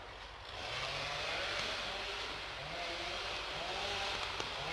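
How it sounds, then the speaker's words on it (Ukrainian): A tractor approaches across rural land as a faint, steady engine drone with a low hum that stays distant throughout. "Трактор до нас їде."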